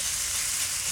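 Onions frying in a pan in a home kitchen, giving a steady, close sizzle with no pauses across the whole moment.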